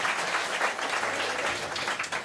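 A comedy club audience answers a stand-up comic's show-of-hands question with a burst of full-room clapping that holds at an even, lively level throughout, with a little crowd murmur underneath.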